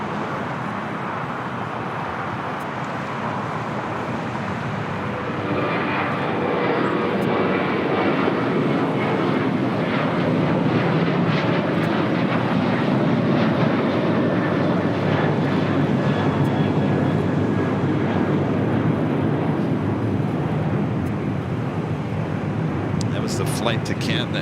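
An airliner bound for Cancun, Mexico takes off at LAX, its broad jet roar building after a few seconds and holding loud and steady, with a voice talking over it.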